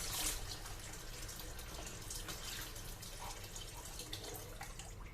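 Okra is washed whole under a running tap, a steady faint rush of water with soft splashing and dripping, no voices.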